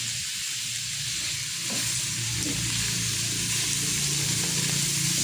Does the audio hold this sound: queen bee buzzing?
no